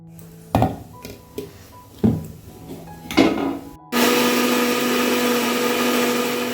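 A kitchen mixer grinder blends garlic, green chilli and cumin. A few hollow knocks and thumps come first, then the motor starts into a loud, steady whirring grind that runs to the end.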